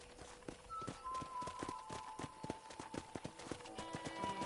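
Hooves clip-clop steadily on a ranch in the Red Dead Redemption video game, with a close, even walking rhythm of crisp hoof strikes and a faint tonal game sound behind them.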